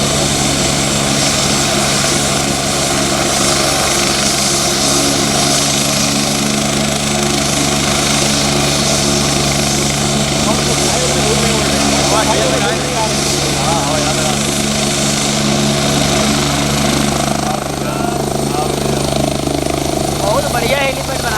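A helicopter runs at a helipad with a constant loud rotor and engine drone throughout, a steady droning hum under people talking nearby.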